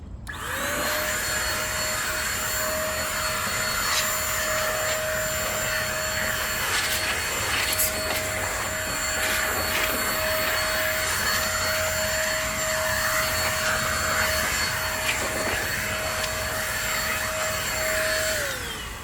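A Metro electric blower runs steadily and loud at close range for the whole stretch, a constant high-pitched whine and rushing air used to blast dust off a smoothed surface, with no talking.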